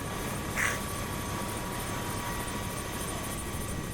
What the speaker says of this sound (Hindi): अभी हम लोग अभी चढ़ेंगे हेलीकॉप्टर में।